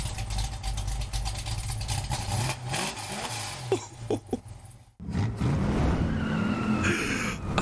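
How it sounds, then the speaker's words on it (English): A 1968 Ford Mustang Bullitt muscle car roars past with loud engine revving and screeching, skidding tires, briefly cutting out before the engine and tire squeal surge back strongly. "Ford Mustang Bullet. 1968 this time."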